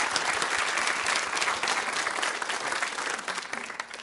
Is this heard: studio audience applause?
yes